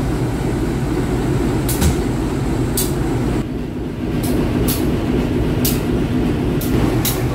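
The Kaligung train stands at Tegal station. A steady, loud low rumble of the vintage locomotive carries on throughout, with sharp intermittent hisses or clacks rising above it.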